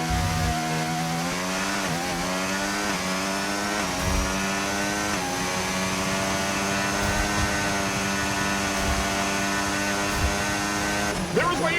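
An F1 car in F1 25 on the Singapore street circuit at full speed, its high-pitched engine screaming steadily through gear changes and rising revs on the final lap, close and continuous with no speech.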